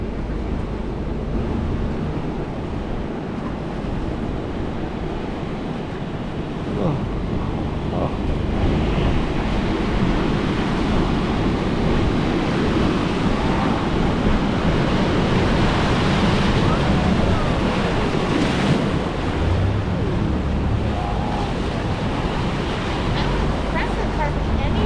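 President Hardy's Rapid on a Grand Canyon river trip, a loud steady roar of churning whitewater with wind buffeting the microphone, holding for the full stretch with no clear voices.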